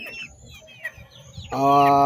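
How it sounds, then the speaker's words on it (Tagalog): Heritage chickens, roosters and hens, cluck and chirp softly at close range, followed by a louder, sustained crowing-like call near the end. "At ipakikita ko sa inyo ang mga tandang ko, mga inahin."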